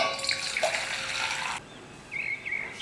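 Very hot water is poured into a cooking pot as a steady rushing splash that stops abruptly, followed by faint tonal ringing, close by.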